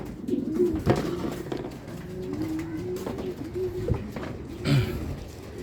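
A racing pigeon hen coos in repeated low, throaty rolling calls, fairly close, with soft rustling and a few light knocks around her.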